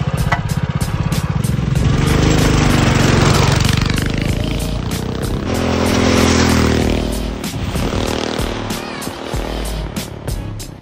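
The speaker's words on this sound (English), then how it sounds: "I'm gonna do a top speed test on our stage one Predator 212 go-kart." Stage one Predator 212 go-kart engine revving hard through a top speed run, a loud continuous buzzing drone that rises and falls in pitch with throttle, close up throughout.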